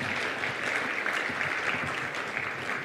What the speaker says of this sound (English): another round of applause to Dr. Rasha Kelej